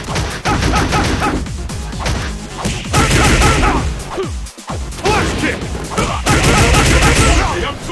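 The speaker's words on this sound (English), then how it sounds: "Sonic boom! Sonic boom! Sonic boom!" Guile firing repeated Sonic Boom projectiles against E. Honda in Super Street Fighter IV Arcade Edition, with whooshes, hits and crashes in quick bursts, loud and busy, overlaid by an announcer-style game voice.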